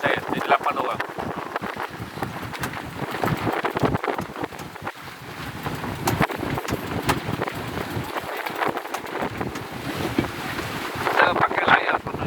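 Strong wind buffets the microphone aboard a sailing boat on rough seas, with waves rushing and gusting noise throughout while someone talks over it.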